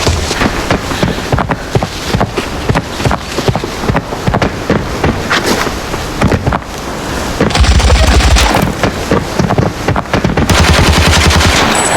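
Rapid bursts of FAL rifle fire in the shooter game Arena Breakout, loud and close, repeated shots crackling steadily through the whole stretch with a few heavier blasts.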